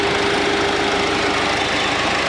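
A 2018 Ford EcoSport diesel engine idles up close with the AC compressor running, giving a steady, loud, even clatter and hum with a constant drone and no speech.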